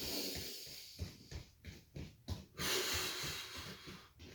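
Heavy, rhythmic breathing through the nose during a HIIT workout, about eight to ten close, snorting puffs of air in a steady pace over a continuous hiss, with no speech.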